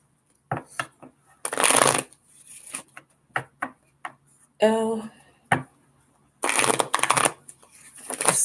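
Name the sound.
shuffling tarot cards during a reading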